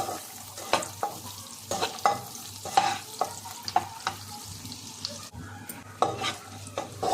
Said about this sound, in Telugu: బటర్లో. కొద్దిగా లైట్ కలర్ వచ్చేంత వరకు వేయించుకోండి